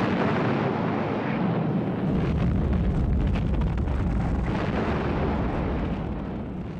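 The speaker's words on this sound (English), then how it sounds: "After a heavy naval bombardment," Heavy naval bombardment of an island by American forces in February 1945, World War II, heard as a continuous, dense roar of rumbling blasts and crackling bursts that stays loud and sustained throughout, with no voices.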